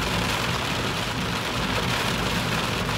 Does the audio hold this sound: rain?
yes